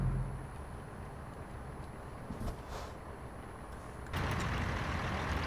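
A semi truck idles and creeps forward in a tight space, with a steady low engine rumble, a brief hiss and a rise in engine noise near the end.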